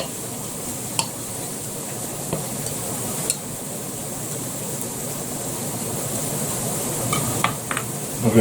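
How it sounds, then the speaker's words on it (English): Sausage frying in a pan for a breakfast roll gives a steady bright sizzle, joined by a few sharp clinks of utensil on metal, close and continuous with no speech. "So I'm going to get my sausage thingy now. Splat it in the pan."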